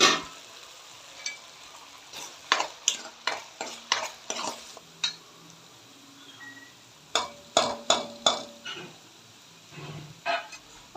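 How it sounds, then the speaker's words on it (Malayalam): Ground spices and a bay leaf, with ginger-garlic paste, sauté in a pan for Punjabi dum aloo. A spoon stirs and scrapes in repeated close bursts over a steady low sizzle. "അതിലേക്ക് കറുക ഇലയും ചേർത്ത് നന്നായി വഴറ്റുക."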